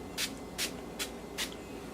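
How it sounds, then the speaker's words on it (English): Short hissing bursts of Wet n Wild all-day-wear setting spray misted onto a face, four quick even pumps close by over a quiet room. "So I am using the Wet n Wild setting spray, the all day wear. So I'm gonna just set my face right now."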